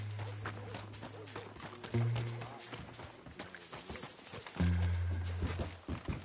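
Horse hooves clip-clop on the ground in Red Dead Redemption 2, a quick rhythmic trot heard up close, with bursts of low game music or ambience swelling around it.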